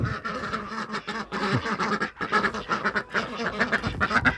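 Several ducks quack close by in a busy, overlapping chorus in a garden in January, steady and fairly loud throughout.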